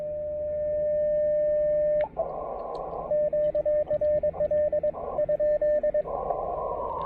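Audio from an Elecraft KX2 radio comes through the monitor as a steady tone, then bursts of noise and choppy, rapid Morse-like beeps against low background hum.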